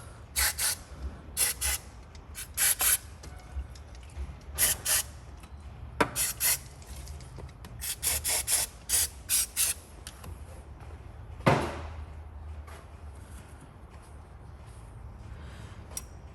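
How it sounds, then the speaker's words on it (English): Aerosol brake cleaner squirted into the engine bolt holes of a Chevrolet Cruze during a head gasket replacement: a series of short, sharp hissing sprays in quick bursts, then a longer single blast, all close up with no talk. "I'm just squirting a little bit of this is brake cleaner. You could use degreaser just into the bolt holes."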